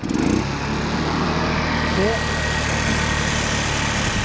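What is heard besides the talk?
50cc scooter engine revving with throttle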